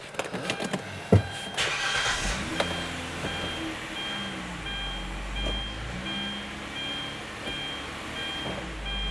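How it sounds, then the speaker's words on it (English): A 2009 Hyundai Santa Fe with a freakishly high idle starts by remote start: a few clicks, a brief crank and catch around one second, then a steady engine idle that hums on nearby with no talking. "remote start function works"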